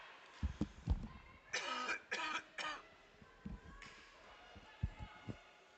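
A man coughs three times in quick succession close to the microphone, with a few muffled thumps and speech around it, during a women's hockey playoff championship game broadcast.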